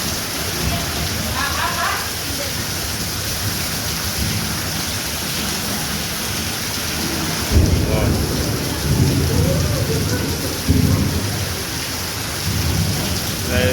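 Heavy rain pours down steadily in a thunderstorm, with deep rumbles of thunder rolling in midway and again later, loud and enveloping.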